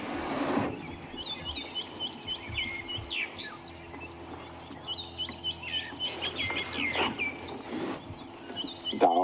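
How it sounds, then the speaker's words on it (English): Grey go-away bird calling on a morning at Djuma in the African bush, loud repeated nasal squawks in bursts, with other birds chirping in the background and insects faintly buzzing. "Oh, there's a go-away bird."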